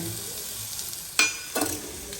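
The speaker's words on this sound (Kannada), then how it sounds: "ಎಣ್ಣೆಯಲ್ಲಿ ಫ್ರೈ ಆಗಲಿ" Chana dal and urad dal fry in oil in a home kitchen, giving a quiet continuous sizzle with a couple of louder stirring scrapes near the middle and no talking.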